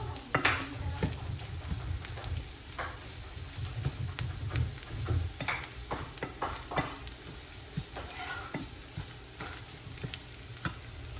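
Eggs cooking as dim bhuna in a pan, with steady sizzling and frequent scraping stirs of a utensil against the metal, clinking now and then, close and continuous with no talk.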